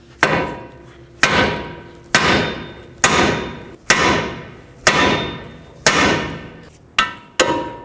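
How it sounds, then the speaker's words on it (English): Eight sharp metallic hammer blows strike a steering knuckle on a 2007-2009 Saturn Aura to free a tie rod stud. They fall at a fairly regular pace, loud and close, each one ringing briefly. "Now take your hammer and hammer on the knuckle."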